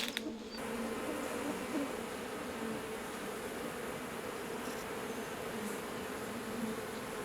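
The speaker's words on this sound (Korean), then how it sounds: "벌이 꿀을 물어가는 방향을 쫓아 여기 왔습니다" Native Korean honeybees buzz continuously around their nest in a tree hollow, a soft, steady hum of many insects with occasional louder passes nearby.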